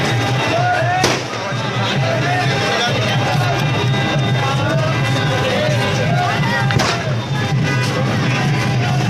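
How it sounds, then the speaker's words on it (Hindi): A dense crowd of pilgrims at the Khatu Shyam temple fills the air with a constant murmur and shuffling, broken by a couple of sharp bangs. Someone talks close by over the noise. "तो भाइयों बहुत ज़्यादा भीड़ है भाई।"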